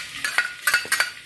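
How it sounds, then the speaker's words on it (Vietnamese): Oil heating in a hot pan before braising tra fish with peanuts, giving off a few short sizzling, stirring bursts in quick succession, close and fairly quiet, with no talking. "giờ nóng em cho dầu vô."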